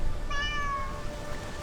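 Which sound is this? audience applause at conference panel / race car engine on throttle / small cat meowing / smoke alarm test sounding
small cat meowing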